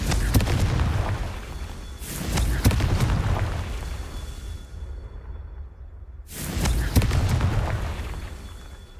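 Confringo blast spells in Hogwarts Legacy go off as loud booming explosions with whooshing bursts, one roaring blast fading to near silence before a second explosion erupts.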